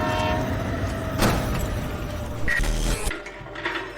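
A train rumbling past with steady mechanical rattling of rail cars, a brief horn-like tone cutting through midway before the noise drops away, loud and close.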